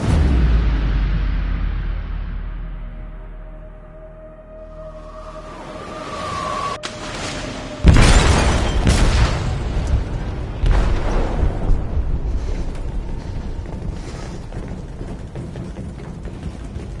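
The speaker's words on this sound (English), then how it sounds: "They detonated an explosive in the hold." An explosive detonates in a ship's hold in Detroit: Become Human, a heavy boom after a rising rumble, followed by sustained roaring debris and rumbling, loud and close with no talk.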